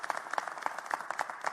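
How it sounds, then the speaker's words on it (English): Applause at a Philadelphia mayoral press briefing on winter storm clean-up, a small group clapping in a steady, moderately loud patter with distinct individual claps over a short stretch. "Let's give them a huge round of applause"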